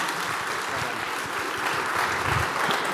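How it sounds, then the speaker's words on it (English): Audience at a startup pitch competition applauding, dense steady clapping filling the whole clip at an even level. "Give him another round of applause, man."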